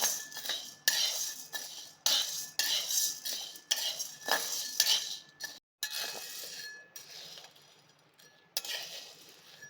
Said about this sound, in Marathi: हरभऱ्याची डाळ आता आपण भाजून घ्यायची आहे